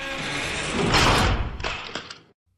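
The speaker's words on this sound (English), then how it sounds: "He exited the holding cell, slamming the door shut behind him." A heavy holding cell door slides and slams shut with one loud, close impact, followed by a few smaller mechanical clanks and rattles before cutting to silence.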